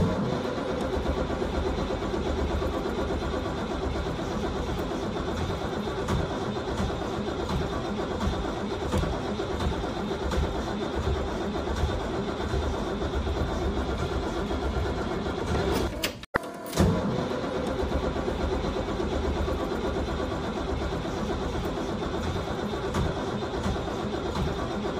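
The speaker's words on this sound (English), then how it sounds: "I know your engine is cold, but you have to start for me." A cold school bus engine cranks steadily for a long stretch, rough and continuous, failing to start, with a brief cutout partway through before it carries on.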